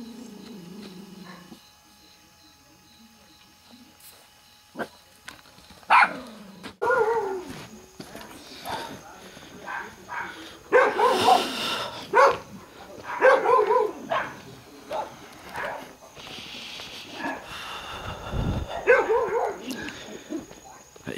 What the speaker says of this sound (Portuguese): Vocês estão escutando os cachorros aí, certo?